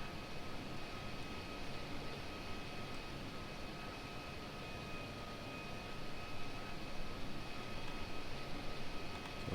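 A McDonnell Douglas DC-10 taxiing in Flight Simulator X, heard as a steady, fairly quiet engine hum and broadband rumble with faint tonal whines, unchanging throughout with no talking.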